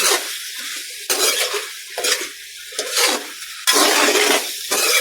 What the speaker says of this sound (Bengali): এখন আমি আলুগুলা দিয়ে সুন্দর মতো কষিয়ে নিব